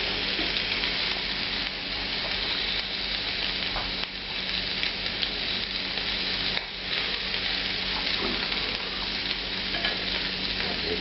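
Shrimp frying on extreme high heat in a restaurant pan, a loud, steady, dense sizzle with crackling spatter and occasional stirring scrapes, continuous throughout.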